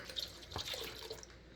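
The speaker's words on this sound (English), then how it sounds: "I'm gonna fill it up just a little bit higher." Water runs from a tap into the tank of an ultrasonic cleaner used for cleaning old tools, a soft, close splashing trickle that fades out near the end.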